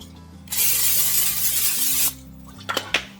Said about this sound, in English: I'm gonna spray it with a little bit of olive oil cooking spray.